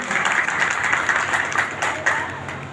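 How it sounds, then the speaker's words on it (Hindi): An audience at an Agra trade association event about One Nation One Election gives the people on stage a warm round of applause, dense steady clapping that carries on throughout. "कृपया पूरे मंच के लिए एक बार जोरदार ताली से स्वागत करें"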